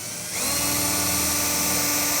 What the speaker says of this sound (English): keeping my fingers out of the way on the bottom, and I'm going to drill through.